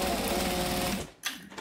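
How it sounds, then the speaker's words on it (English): A sewing machine runs steadily as it stitches around the edge of a bag, giving a fast, loud, continuous hum. It stops abruptly after about a second and is followed by faint handling noises. "I'm just going to stitch all the way around."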